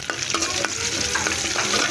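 Cardamom, cinnamon and bay leaf sizzle in hot oil in a kadai at the start of a country chicken curry, with a steady frying hiss and a few sharp scraping stirs of a spoon, close and clear.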